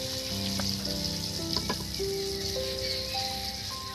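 Extra oil sizzles in a pan of frying chicken curry, a steady bright crackling hiss throughout with a few scattered pops and tonal hums underneath.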